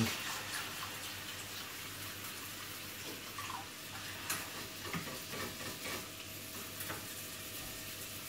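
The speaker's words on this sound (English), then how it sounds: "Oat milk for the white sauce. Keep on stirring." Oat milk white sauce stirred steadily in a pan for a vegetable bake, a soft continuous scraping swirl with faint bubbling and light clinks, no talk, moderately quiet throughout.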